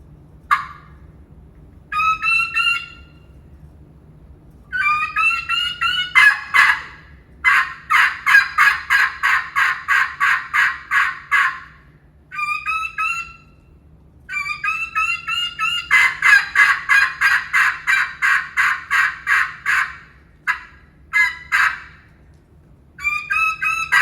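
A human caller imitates a hen turkey with a call, in bursts of raspy yelps followed by rapid runs of high, clear kee-kee whistles. The calls come loud and close over about twenty seconds with short gaps between phrases.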